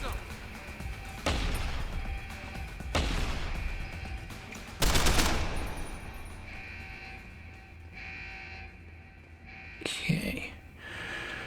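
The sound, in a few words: shotgun gunfire in video game Deus Ex: Human Revolution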